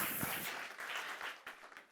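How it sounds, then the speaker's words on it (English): An audience applauds at a speaking competition grand finale in Kerala, a steady patter of many hands clapping that fades out over a couple of seconds, fairly faint and distant. "A very big round of applause,"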